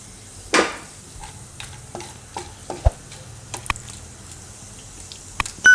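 Whole spices such as bay leaf and dried and green chilies drop into hot oil with a sharp burst of sizzle, followed by quieter crackling and a few scattered clicks and scrapes for pulao.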